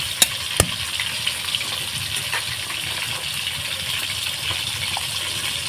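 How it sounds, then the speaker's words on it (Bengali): Sliced onion frying in oil in a pan hisses softly and steadily nearby, with a couple of sharp metallic clinks early on and light stirring scrapes through the rest. "এইভাবে আমি আরেকটু ভেজে নেব পেঁয়াজটাকে।"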